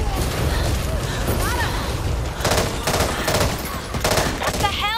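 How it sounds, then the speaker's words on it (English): Loud, dense gunfire in Back 4 Blood: rapid automatic bursts and overlapping shots roll continuously in a chaotic firefight, mixed with game effects and faint voices. "Watch where you're firing!"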